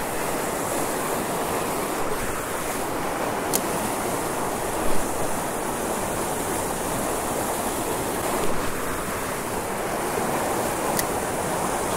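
A waterfall pours steadily into a pond, a dense, constant rushing wash of water that stays loud and even throughout with no voices.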